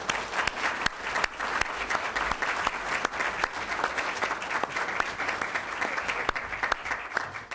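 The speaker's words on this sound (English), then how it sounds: "I think they all deserve a round of applause." Audience applause fills a law symposium on prosecutorial ethics, a steady, dense wash of clapping from a room of listeners that holds evenly throughout with no voices over it.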